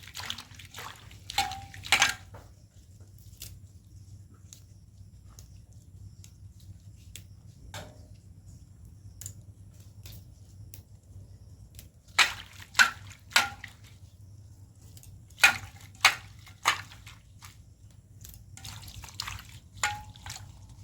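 Flowers and leaves are rinsed in water before being ground on a grinding stone, giving scattered drips, splashes and trickles in short bursts over a steady low hum, with quiet stretches between.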